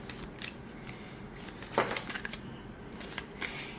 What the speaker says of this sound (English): you do expect it to stick a little bit when you side shuffle